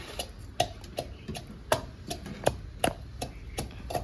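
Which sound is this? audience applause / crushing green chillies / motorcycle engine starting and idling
crushing green chillies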